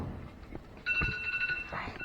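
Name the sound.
phone alarm ringing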